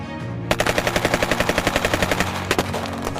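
Rapid bursts of automatic gunfire rattle loudly in a steady stream, with a brief pause and then more shots, close and sharp.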